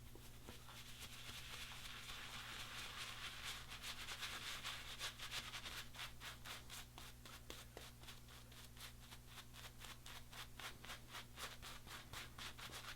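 A shaving brush works Williams mug shaving soap into a lather with quick, rhythmic scrubbing strokes against the mug, a close, steady brushing texture throughout with no talk.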